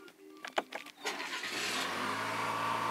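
A 2023 or newer Chevrolet Colorado pickup truck engine cranks with a few sharp bursts, then catches and settles into a steady, fairly loud idle heard close up.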